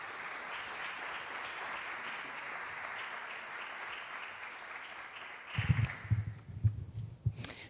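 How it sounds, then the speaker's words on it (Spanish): A conference audience applauds a panelist at a low-carbon cities forum, steady clapping that fades out, followed by low thumps and handling noises near the microphone. "un fuerte aplauso para ella"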